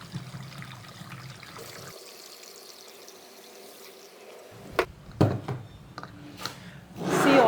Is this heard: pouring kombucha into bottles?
yes